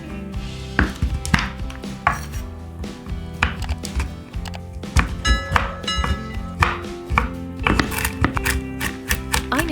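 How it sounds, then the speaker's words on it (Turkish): A knife chops milk chocolate into small pieces on a board, a close series of sharp, uneven taps and cuts in quick succession. "40 gram sütlü çikolatayı ince ince parçalar haline getiriyoruz."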